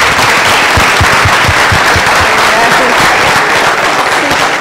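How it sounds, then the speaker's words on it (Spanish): An audience applauds at the presentation of an international course, with dense continuous clapping that stays loud and close from start to finish, sounding like a full room. "un aplauso."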